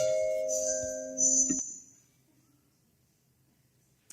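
Church bell tolls right next to an online meeting, a loud ringing tone with sustained overtones that sounds for about a second and a half, then decays into near silence, with a faint clink at the end.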